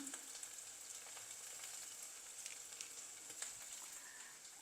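Onions and green chillies sauté for prawn biryani, giving a soft, continuous sizzle with scattered faint crackles and pops, heard alone and fairly quiet.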